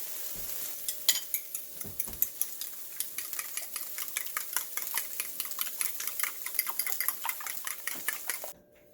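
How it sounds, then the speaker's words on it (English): Eggs being beaten in a bowl with a utensil, a quick steady run of light clicking taps against the sides, close and fairly quiet with no voices. "let me go get something to mix these eggs together."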